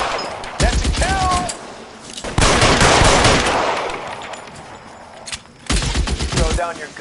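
Bursts of gunfire in L.A. Noire, a police shootout with several rapid volleys separated by pauses, loud and close, with shouted voices between them.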